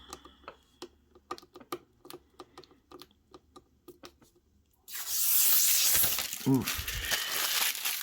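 Crinkly protective plastic film being peeled off a new MOOSOO Wi-Fi robotic smart vacuum during unboxing, a sudden loud, sustained hiss of crackling plastic after a run of small clicks and taps, with a brief voiced exclamation.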